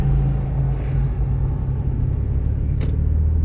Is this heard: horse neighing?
no